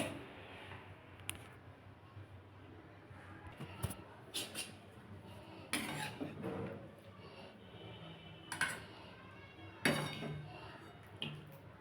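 Cooked doi phulkopi, a yogurt cauliflower curry, being tipped from a pot into a serving dish, with scattered metallic clinks and scrapes of utensils against cookware, faint and close, some sharper knocks among quieter rustling.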